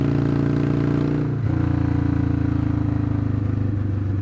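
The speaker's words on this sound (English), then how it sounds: "I love that sound. It was my favorite motorcycle sound," A motorcycle in city riding rumbles with a steady, throbbing engine note that briefly dips as the throttle is let off, then settles back into a low, even burble close by.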